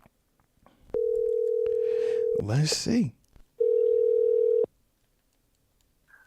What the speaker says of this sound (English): Let's call you and see who this is.